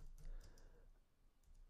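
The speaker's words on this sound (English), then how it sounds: "I just type private" Someone typing a few keystrokes on a computer keyboard, faint, soft clicks in a quiet room.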